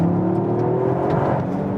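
A 2021 Toyota GR Yaris with its 261 hp AWD engine accelerates hard in second gear on a wet road, the close, loud rising whir and growl climbing steadily in pitch with no talk over it.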